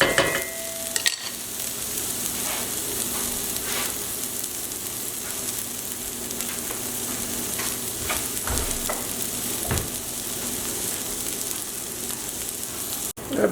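Green beans with tomato sizzle steadily in a hot pan, with occasional scrapes and clicks of stirring. The frying stays constant and close throughout, without talk.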